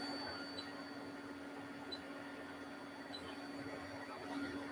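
An Anycubic Chiron 3D printer running: a faint, steady mechanical hum with a constant tone and soft periodic ticks, heard alone without talk.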